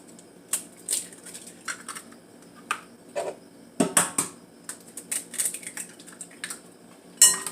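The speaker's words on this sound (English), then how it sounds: "First, we're going to crack the eggs" Eggs being cracked for almond-milk French toast: a run of sharp, close clicks and taps on a bowl rim, irregular and scattered, with light shell crackles and a louder knock near the end.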